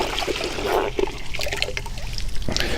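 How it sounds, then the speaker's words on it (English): Water trickles and splashes steadily as a grout-cleaning sponge is wrung out by hand, a close, continuous dribbling with a few louder spatters. "what I'll do is I'll wring the sponge out"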